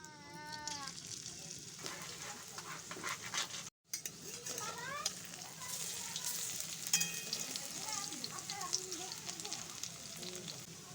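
Steady, crackling sizzle of vegetable fritters frying in hot oil, with a few high, wavering meows popping up over it.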